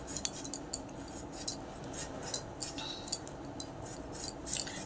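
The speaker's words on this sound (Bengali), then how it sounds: "উচ্ছের সাথে আলুটা আলু ভাজার মতো করেই কাটি আমি" A knife slices bitter gourd and potato into thin strips like for fries. Quiet, irregular clicks and taps of the blade against a board repeat in short bursts over a soft background hiss.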